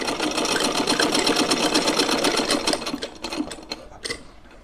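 A sewing machine stitching lace onto a small lehenga, a fast steady mechanical whirr with rhythmic needle clatter that slows and stutters to a stop near the end, close and alone.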